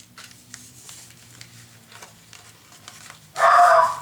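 A dog gives one loud, close bark near the end after a stretch of quiet, faint household sounds, apparently reacting to the postman delivering the newspaper.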